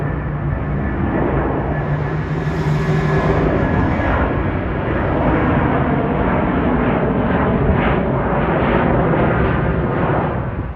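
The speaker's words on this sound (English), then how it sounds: "this next one is a Luxair flight, or should I say Swiss Air flight to Zurich with an Airbus 330" An Airbus A330 on a Swiss Air flight to Zurich takes off at Dorval, Quebec, its jet engines a loud, steady rumbling roar that holds strongly throughout with a broad low-frequency thunder and no talk.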